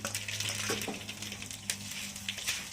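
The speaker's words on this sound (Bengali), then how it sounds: "তারপর দারচিনি এলাচ লম্বমও দিলাম ফোড়ন দিলাম" Whole spices such as cinnamon, cardamom and bay leaf tempering in hot oil for a Bengali milk-and-cashew shukto, a steady soft sizzle with a few stirring clinks, close and continuous.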